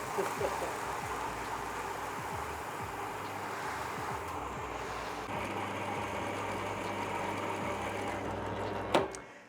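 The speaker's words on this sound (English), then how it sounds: "Now, let's hope that the grain mill works." Grain mill crushing brewing grain for a spiced Belgian saison, a steady loud grinding rumble that runs continuously, then stops abruptly with a clunk near the end.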